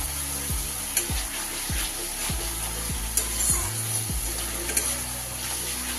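Spices with yogurt being stirred and fried in a pan, a steady sizzle under repeated scraping strokes of a spoon, with a few sharper clacks against the pan, close and alone.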